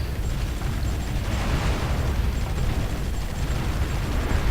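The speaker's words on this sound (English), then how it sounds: "especially for my battleship to start bombarding if they have the range" Battleship bombardment in the strategy game Supreme Ruler 2020 comes through as a steady low rumble of distant blasts and booms, rolling on without a break and without voices.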